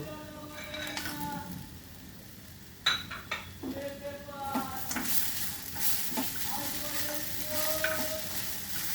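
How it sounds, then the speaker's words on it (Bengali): Lentil dumplings (bori) dropped into a papaya curry in a pan, giving a sudden clatter and then steady sizzling with utensil scrapes and stirring. "এবার আমি বড়িগুলো দিয়ে দেব।"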